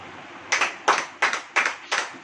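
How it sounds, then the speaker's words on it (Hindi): A church congregation claps in unison, five sharp, evenly spaced group claps in a steady rhythm, each a crisp burst with a brief tail, with no talk over them. "ताली बजाइए।"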